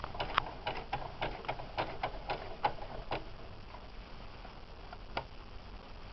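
A Singer serger overlock sewing machine stitching four threads, giving a steady fast mechanical ticking and clattering with sharper clicks, close and moderately quiet, with no talking.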